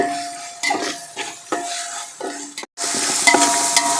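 Ginger garlic paste frying in oil for chicken biryani gravy hisses and sizzles in bursts as a spoon stirs and scrapes the pan, then gives a louder steady sizzle after a brief gap.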